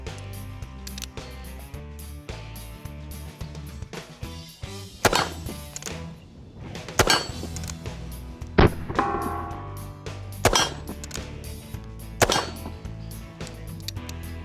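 A 44-40 cowboy revolver fires several sharp, loud reports spaced a second or two apart outdoors, each a single crack with a brief ringing tail, amid low background hum.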